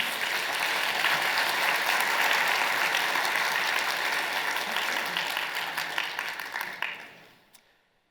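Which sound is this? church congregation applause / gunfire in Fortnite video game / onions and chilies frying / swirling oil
church congregation applause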